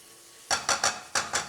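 Garlic with onions and shrimp in a pan, stirred in four or five quick scraping strokes against the cookware over a faint background sizzle, close and fairly loud.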